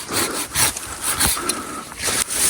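A hand saw cuts through an olive tree branch during rejuvenation pruning, giving several rough back-and-forth rasping strokes in an uneven rhythm, close and fairly loud.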